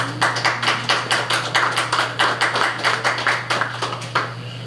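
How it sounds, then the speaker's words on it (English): Brisk applause from a small group, steady clapping with some uneven bursts, fairly close, with a constant low hum underneath. "let's give them another round of applause if we can"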